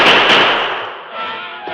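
A rifle shot in an old radio drama about a western frontier fight: one loud, close blast that rings and decays slowly into a long, reverberant tail.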